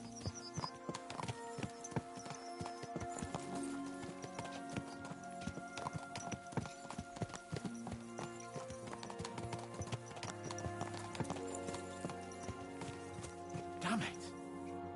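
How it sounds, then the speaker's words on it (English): Horse hooves clip-clop in a steady gallop in the medieval game Kingdom Come: Deliverance II, loud and continuous over a music bed, with a brief whinny and someone talking over it. "Let's really spur these horses on, eh?"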